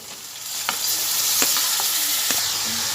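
Chopped tomatoes stirred into a sizzling Telangana-style bitter gourd curry, a loud steady frying hiss close by, broken by a few sharp spoon scrapes against the pan.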